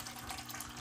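Small inexpensive aquarium pump circulating water in a bathroom tank for medaka fish, a steady close-up trickling and bubbling wash of water with no pauses and no voices.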